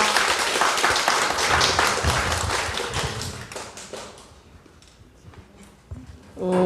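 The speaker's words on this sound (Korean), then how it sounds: "다시 한번 큰 박수 부탁드릴게요" Dense applause from a seated audience at a consumer meeting fills the room, then thins and fades to near silence before a brief swell of sound at the end.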